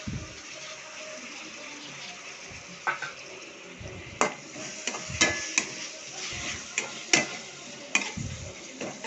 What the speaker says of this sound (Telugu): దీంట్లో వేసుకున్న టమాటోస్ వచ్చి బాగా ఫ్రై చేయాలి